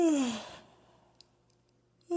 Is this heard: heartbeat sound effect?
no